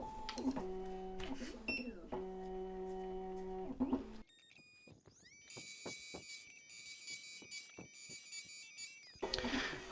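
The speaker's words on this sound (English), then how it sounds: "just cutting the key" A Black Widow S2 key machine cutting a Fobik emergency key gives off sustained whining tones and buzzing mechanical passes. Clicks and brief ticks sit between the passes, and everything drops to near silence during a short pause midway.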